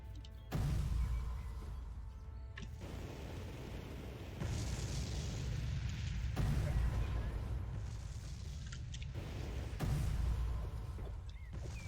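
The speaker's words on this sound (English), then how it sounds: "Explosion Blast!" A magic spell called Explosion Blast detonates in the Roblox game World of Magic, giving a loud, sustained rumbling boom with low-end roar and repeated bursts of blast energy throughout.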